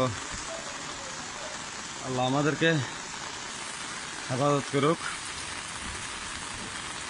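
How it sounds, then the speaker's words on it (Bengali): Heavy rain pours steadily in Feni at Old Munshir Hat during flooding, a dense, even hiss throughout. Someone speaks briefly twice over the downpour. "এখনো বৃষ্টি হচ্ছে। আমি ভিডিওটা ধারণ করার সময় বৃষ্টি হচ্ছে।"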